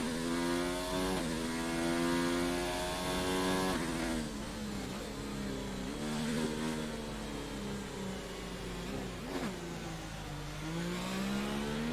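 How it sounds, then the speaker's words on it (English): A Williams Formula 1-style racing car engine, sounding rough and poor, heard loud and continuous over about twelve seconds with steady engine harmonics and rises and falls in revs during an online racing league session. "I was just listening to the engine sound from Pete's car. God, it sounds terrible in the Williams there."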